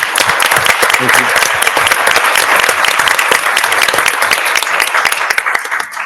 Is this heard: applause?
yes